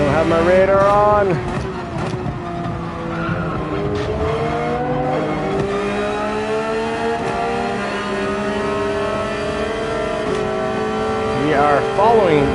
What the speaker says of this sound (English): We are following what I believe is the Subaru based from the sound.